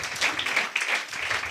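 A church congregation at a Sunday service in Nandikotkur claps loudly together to praise the Lord, a dense, steady burst of many hands lasting the whole moment with no voices.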